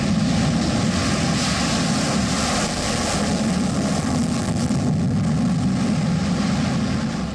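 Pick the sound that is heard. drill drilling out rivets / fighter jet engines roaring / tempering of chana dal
fighter jet engines roaring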